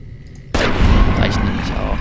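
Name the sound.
pistol gunshots in the video game Fallout: New Vegas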